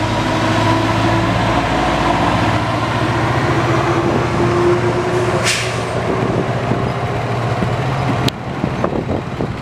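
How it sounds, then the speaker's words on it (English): A 1977 Yamaha RD400 two-stroke motorcycle engine runs on a back-road ride, giving a loud continuous drone with wind rush, a sharp transient near the end and no talk. "Bike's actually running pretty good today. Oh, listen to that horsepower."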